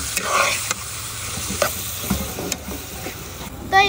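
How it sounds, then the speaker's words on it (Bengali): Fried rice stirred in a pan, with a steady sizzle underneath and repeated sharp spatula scrapes and clicks at an irregular rhythm, close and fairly loud throughout. "একটু নাড়াচাড়া করে ডিম দিয়ে দেবো।"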